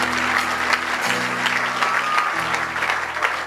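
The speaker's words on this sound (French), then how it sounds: "On acclame le Seigneur pour lui" A church congregation applauding at a vigil, dense steady clapping from a large crowd that carries on throughout with a low hum beneath it.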